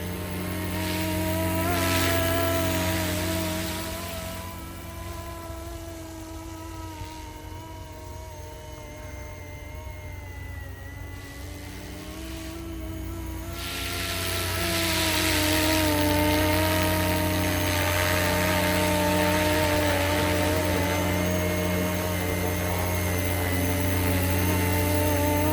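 A RotorScale UH-1 Huey model helicopter's steady whining rotor and motor drone, swelling and fading as it flies nearby, with no voices.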